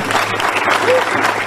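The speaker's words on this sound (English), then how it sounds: "employees at the Department of Justice applauded Sessions as he walked out of the Justice Department building for the last time" Justice Department employees applauding Jeff Sessions as he leaves the building, a dense, steady burst of clapping from a sizable crowd, close and loud, with faint voices mixed in.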